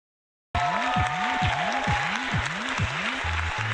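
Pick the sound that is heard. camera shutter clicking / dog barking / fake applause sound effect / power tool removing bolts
fake applause sound effect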